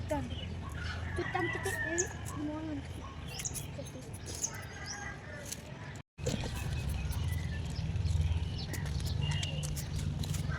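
Chickens cluck intermittently at a moderate distance around a home, under ongoing background talk and household noise, with a brief dropout midway.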